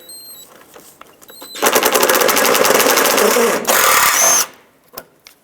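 A power tool rattles loudly in two sustained bursts, close up, as bolts are removed from the underside of a 2003-2009 Toyota 4Runner bumper, with softer clicks before and after.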